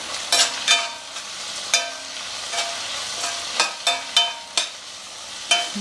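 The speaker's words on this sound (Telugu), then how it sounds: "ఎండు మిరపకాయలు తిరగమాతలు వేస్తాం మర్చిపోయా ఇప్పుడు వేస్తున్నా" Dried red chillies fry in hot tempering oil, with sharp scraping stir strokes landing at uneven intervals over a light close sizzle, no voices.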